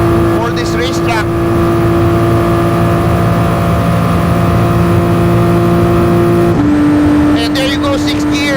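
Race car engine in Gran Turismo Sport held in sixth gear at about 409 km/h, a loud steady high-pitched drone that drops slightly in pitch near the end, with a commentator talking over it.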